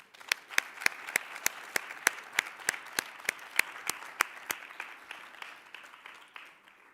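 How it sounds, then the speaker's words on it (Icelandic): An audience at a sports awards ceremony in Akureyri claps, with sharp, regular beats in unison standing out over a softer bed of scattered applause that gradually loosens and fades. "Ég gefa honum gott klapp."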